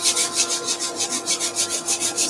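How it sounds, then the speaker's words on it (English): Hand sanding along the edge of a wooden spatula blank, a close, rhythmic scratchy rasp in about a dozen even back-and-forth strokes, with no voices. "Sand the edge"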